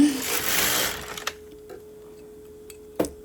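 A bulky knitting machine carriage sweeps across for about one second as a loud broadband swish, followed by quieter clicks and a faint steady tone, with scattered taps near the end.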